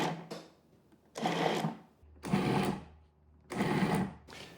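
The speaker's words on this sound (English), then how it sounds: "So this garlic can go right into the food processor." A food processor pulses on frozen garlic pucks in a series of loud, whirring bursts of roughly a second each, separated by short pauses, with no voices.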